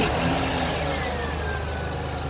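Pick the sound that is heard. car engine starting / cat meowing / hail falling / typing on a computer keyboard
car engine starting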